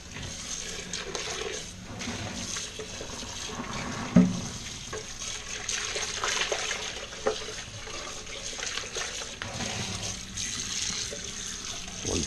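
Running tap water splashes steadily into a sink as a French press is rinsed, with a few knocks and clunks of glass or metal against the basin.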